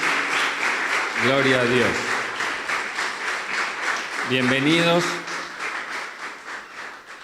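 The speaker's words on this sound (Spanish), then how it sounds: "vamos a darles un fuerte aplauso a los que nos están visitando en esta mañana" A church congregation claps for visitors during a Sunday morning service. The clapping is steady and moderately loud, and someone speaks over it twice in short phrases.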